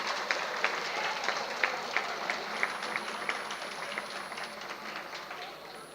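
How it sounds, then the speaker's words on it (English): Applause from the crowd at a university convocation ceremony for medal recipients, with scattered sharp claps over a softer, somewhat distant wash of clapping, fairly quiet throughout, and a faint steady tone entering partway through. "Give a big round of applause to all the medal recipients."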